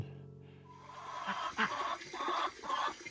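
Backyard chickens clucking in a short burst of repeated calls, fairly close and clear, with no talk over them.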